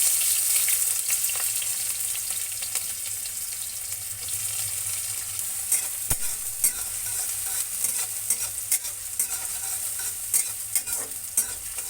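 Chopped onion frying with cumin seeds and dried red chili in hot oil, a bright continuous sizzle with regular stirring scrapes close up, steady throughout and no voices.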